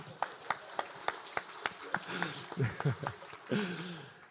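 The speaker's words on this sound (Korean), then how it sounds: "우리 하나님께 영광의 박수를" Congregation in a church clapping in praise during a Sunday worship service, a handful of distinct claps first and then a fuller, denser burst of applause with voices mixed in, moderately close.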